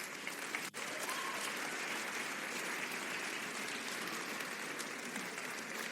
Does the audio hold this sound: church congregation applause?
yes